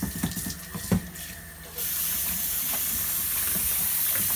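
Tap water runs steadily into a sink as goat meat is washed for Jamaican curry goat, a brief rattle of handling giving way to a constant, close hissing flow that lasts to the end.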